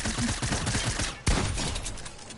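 Rapid gunfire from a shooter video game rattles in dense bursts, with a sharp louder shot midway followed by continued crackling volleys, loud and close, with no talk over it.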